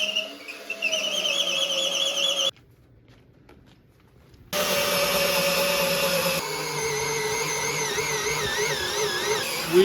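A power drill bores a hole for a 14mm hemp rope, whining loudly and steadily, then stopping for a couple of seconds and starting again with a changing pitch as it bites into the material.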